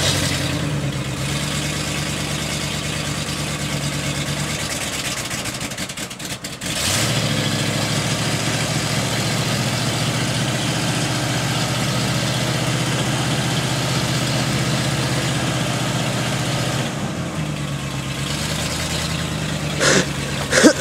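A 1976 Ford truck engine idles steadily outdoors, a continuous low rumble with a brief dip around the middle before settling back to an even idle, no talk over it.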